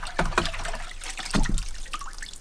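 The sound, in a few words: rinsing an outboard carburetor part in a water bucket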